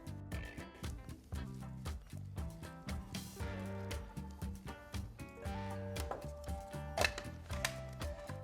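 A food processor blitzing red bean cracker dough, chopping and thumping in a steady repeating rhythm with rattling, clattering bursts, close and moderately loud with no talking.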